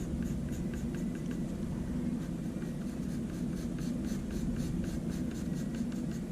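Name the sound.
pencil shading lines on paper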